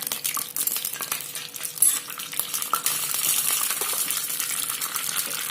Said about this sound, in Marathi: तडका पॅन मध्ये तेल घातलंय मी, 2 चमचे तेल घातलंय. मोहरी टाकते फोडणीला.